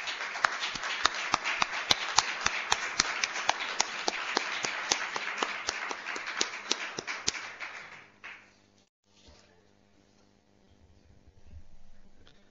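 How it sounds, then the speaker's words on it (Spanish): Applause at a university award ceremony: a dense patter of clapping with some sharp individual claps for about eight seconds, then it stops abruptly, leaving a quiet hall with faint low rumbles. "Un aplauso."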